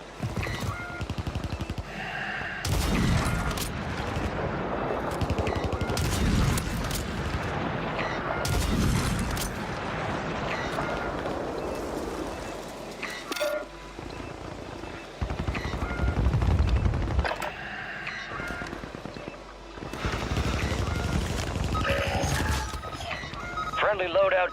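Warzone gameplay fills with bursts of automatic gunfire and booming shots, loud and dense, broken by brief lulls, with a voice talking over the action.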